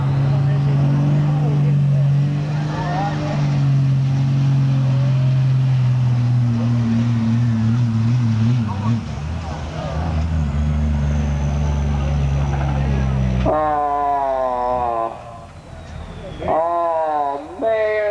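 A Dodge single-bed dually diesel pickup at the 2005 Preble County Fair in Eaton, Ohio, gives off a loud, steady engine drone that sinks into a low rumble, followed by a voice on a loudspeaker near the end.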